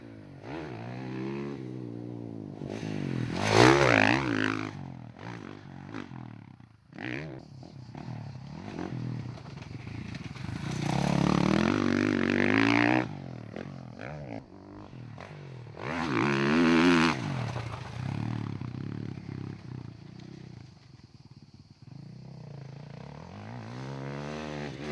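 KTM 450 SMR, a track-only supermoto competition bike, ridden on a dedicated circuit. Its single-cylinder engine revs hard and climbs in repeated loud surges, with drops off the throttle between them.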